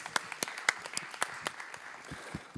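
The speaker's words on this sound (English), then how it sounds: "Can we have a round of applause for Manos?" Scattered applause for a panel participant at a post-ICO pitch battle event, a sparse set of individual claps with uneven rhythm, fairly quiet and short-lived.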